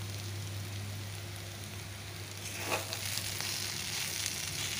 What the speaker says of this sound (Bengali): যে তেল ছেড়ে দিচ্ছে দেখো, আরও ভাজা হবে।